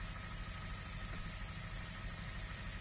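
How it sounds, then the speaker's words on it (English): Steady, loud rotor and turbine drone of a Bell Jet Ranger helicopter heard from inside the cabin in flight, a constant dense roar with no break and no voices. "We're flying in a Bell Jet Ranger here, and they are a very reliable helicopter."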